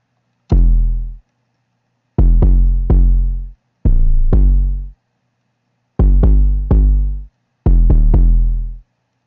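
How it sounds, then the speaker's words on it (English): Deep, booming 808 bass notes from a dark trap beat hit in short rhythmic clusters with gaps between, loud and isolated with no other instruments. "So the 808 I use for it sounds like this."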